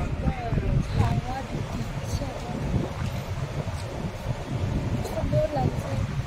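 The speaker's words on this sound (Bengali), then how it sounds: "কি হাওয়া এখানে" Strong wind buffets the microphone with a constant low roar, while people talk over it outdoors.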